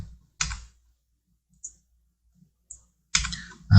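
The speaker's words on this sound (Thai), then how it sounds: "ด้วยการกดที่ลูกศรครับ บนคีย์บอร์ด" Arrow keys pressed on a computer keyboard while working in Illustrator: two distinct clicky key presses and a later cluster, with a few faint taps between them in near silence.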